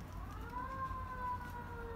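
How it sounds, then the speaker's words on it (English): A fire alarm wails continuously in the background of a quiet indoor room, its steady rising-and-falling electronic tone sounding moderately loud and unbroken, with no talking over it. "it's gonna be really, really noisy because I think that's a fire alarm"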